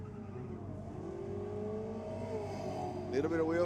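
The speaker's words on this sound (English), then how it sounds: "Little bit of wheel spin out of the Falcon, I think it was, in the Aeroflow lane." A Ford Falcon drag car launches at a night drag meet, engine droning steadily under crowd and commentary before a louder rising rev near the end, with a hint of tyre spin.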